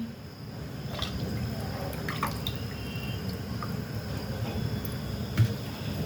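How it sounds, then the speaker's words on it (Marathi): Reserved crab stock water is poured into a coconut-based crab curry, giving a steady close pouring and dripping sound with a small splash near the end and no talking. "खेकड्याचं काढलेलं पाणी घालते मी."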